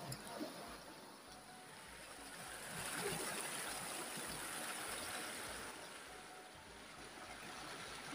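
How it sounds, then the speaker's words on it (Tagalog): Flowing clear water of Punsong Bato River in Bulacan rushes steadily in the background, a soft continuous babble that swells slightly midway. "tunog ng tubig oh, linaw"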